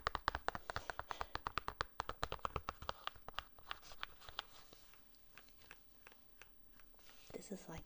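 Quick, crisp fingertip taps on a plastic bag, close and delicate, come in a dense rapid patter that gradually thins into sparser, softer taps with light crinkling.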